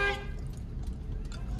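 A single short car horn toot sounds right at the start of a driving lesson in narrow lanes, followed by low engine and road rumble.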